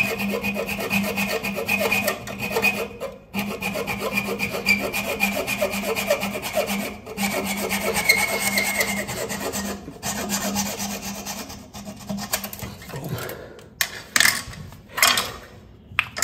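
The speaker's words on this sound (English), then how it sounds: "just cut that boy down. The saw right here. Just line it up." A hand saw cuts through a long metal toilet bolt, running as a steady rasping rhythm of close strokes for about thirteen seconds before the cutting stops and a few scattered knocks and handling sounds follow.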